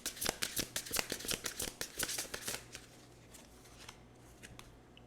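Oracle cards shuffled by hand during a tarot reading, a quick run of crisp riffling snaps that slows into softer card slides and taps, close and quiet.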